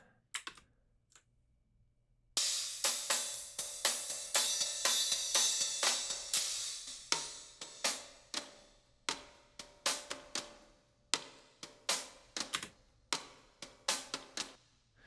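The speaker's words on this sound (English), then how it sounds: "I later then sent the whole drum bus to my Doepfer A199 spring reverb tank" Soloed drum bus fed through a Doepfer A199 spring reverb tank: sharp clicky drum hits with a splashy metallic spring tail, quiet and faint, playing a steady rhythmic pattern after a brief sparse start, no voices.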